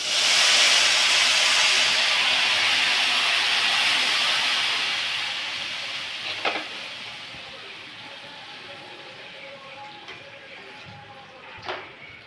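Tamarind water, half a kilo of tamarind dissolved, is poured into a hot pan for puliyodharai. It hits with a loud hiss that slowly fades to a softer sizzle, with a couple of faint utensil knocks.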